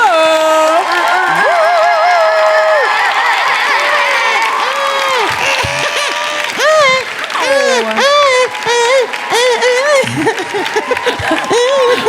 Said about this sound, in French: Commencez à applaudir tout de suite, s'il vous plaît.